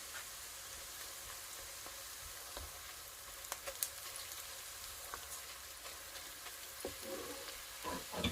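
Finely chopped green chili goes into a pan of hot paste while making mutton lasagna. A faint, steady sizzle runs throughout, dotted with small crackles and pops.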